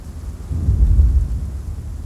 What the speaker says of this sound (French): Cela tonne de toutes parts.